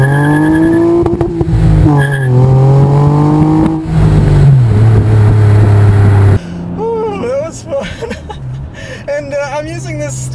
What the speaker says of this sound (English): Wheel spin like crazy. Got the rev limiter there.